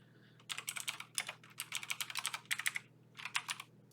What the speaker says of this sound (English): I'm just typing WinPS.